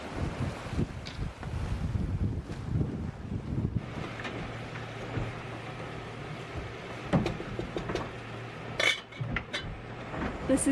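Pots and cookware clatter and clink on an induction burner aboard a sailboat underway, in scattered knocks and rattles over steady wind and boat noise, with no talk.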